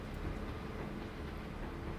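Rumbling train rolling across a strained bridge in a bridge-building game, a steady low continuous drone holding at one level throughout with no voices.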